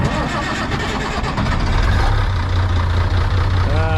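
An International tractor engine cranks and catches, then settles into a loud, low, throbbing idle nearby, with some background noise over the start.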